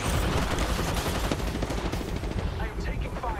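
Dense, continuous rapid gunfire in a competitive ranked shooter match, bursts overlapping throughout with loud game noise and a voice talking over it.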